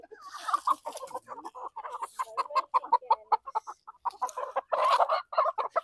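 Basilan native chickens clucking at a market sale, a run of short, rapid clucks and squawks close by with no talk over them.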